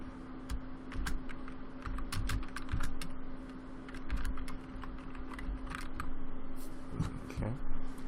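Rapid, irregular clacking of a computer keyboard as a name is typed for an email list, close and moderately loud over a steady background hum.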